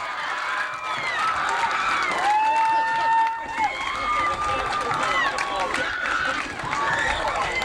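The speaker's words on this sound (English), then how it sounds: "How about a nice round of applause for Jason Stevenson?" Crowd at the 1989 Canadian Championships applauding and cheering a first-time winner, sustained clapping mixed with whoops and excited voices, fairly loud and continuous.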